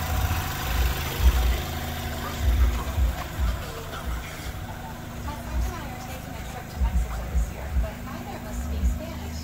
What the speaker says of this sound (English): It's a four-cylinder twin-power turbo engine, ready to go.